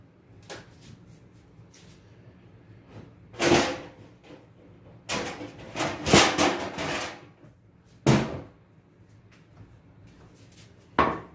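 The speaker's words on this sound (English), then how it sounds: "let me get my pan." A pan fetched from a kitchen cupboard: a few sharp knocks and clatters of cookware and cupboard doors come in separate bursts over a quiet room.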